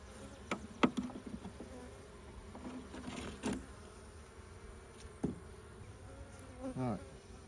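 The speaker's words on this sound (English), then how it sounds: "There's a few bees in here" Honeybees buzz steadily inside a queen-rearing hive, a soft continuous hum broken by a few closer passes and faint knocks of handling.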